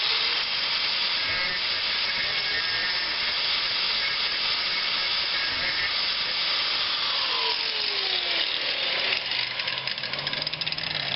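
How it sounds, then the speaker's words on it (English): An angle grinder cuts through a nut on a 5.4L Ford F150 exhaust manifold, a loud continuous high hiss and whine that holds steady, then shifts pitch near the end as the disc bites. "I'm going to use an angle grinder."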